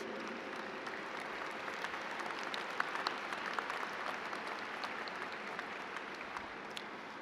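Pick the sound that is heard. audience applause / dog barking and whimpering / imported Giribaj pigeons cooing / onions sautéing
audience applause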